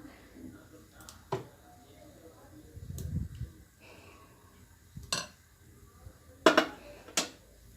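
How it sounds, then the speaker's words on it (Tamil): Metal idli moulds filled with coconut idli batter being set into an idli steamer pot, making a few sharp metallic clinks and clanks in a kitchen, the sharpest toward the end, with soft handling noise between. "இந்த அளவுக்கு ஊற்றிட்டு நம்ம இட்லி பாத்திரத்தில் வச்சுருவோம்"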